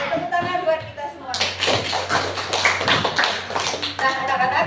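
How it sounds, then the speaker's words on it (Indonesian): Students in a classroom clap their hands together, a dense burst of many overlapping claps starting about a second in and continuing steadily, with voices chattering underneath. "Oke, tepuk tangan buat kita semua."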